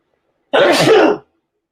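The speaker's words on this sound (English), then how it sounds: "I think I might sneeze." A single close, loud sneeze bursting out of silence, short and breathy, then cut off cleanly.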